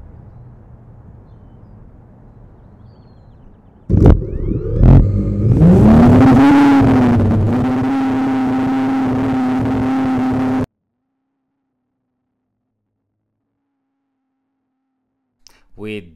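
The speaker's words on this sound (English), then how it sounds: "There was just so much noise and distortion from the drone blades that nothing could be heard at all." DJI Mini drone propellers recorded by a DJI Mic 2 mounted on the drone start up abruptly, then spin up into a loud, distorted whine that holds steady before cutting off into near silence.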